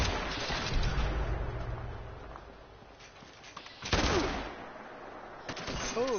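Gunfire in the video game Fallout 76 crackles through a dense, noisy battle mix, with a sharper loud burst near the middle and another toward the end, with no clear voices.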